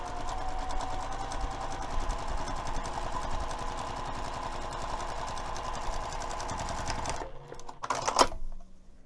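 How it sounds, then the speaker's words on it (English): A sewing machine top stitches a fabric strap for a crossbody bag, 1/8 inch from the edge with a 3 mm stitch length, running in a steady fast rhythm for about seven seconds before stopping with a few brief handling sounds. "let's take this over to the sewing machine and again top stitch 1/8 of an inch away from the edge of the fabric"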